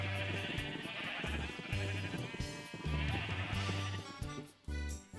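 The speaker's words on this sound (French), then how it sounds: "Allez les moutons, venez, venez." Sheep bleating in the Minecraft video game, repeated blocky bleats from several animals following one another, fairly loud and steady throughout with no talking.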